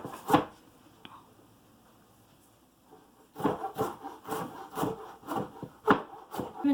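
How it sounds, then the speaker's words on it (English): A knife chops vegetables finely into brunoise on a cutting board: one sharp knock, a quiet pause, then a run of close, evenly spaced chopping strikes. "Make sure you're cutting it as finely as possible."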